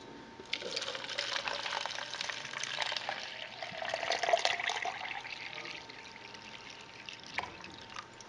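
Energy drink pours steadily into a plastic cup for several seconds, a continuous close trickle and splash that swells midway and fades near the end, with no talking.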